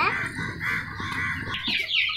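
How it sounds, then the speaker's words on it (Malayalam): Chickens cluck and call steadily at a small poultry farm, a close, continuous flock sound with a higher bird call rising near the end. "അപ്പോൾ ഗൈസ്, ഇതാണ് കോഴികൾ"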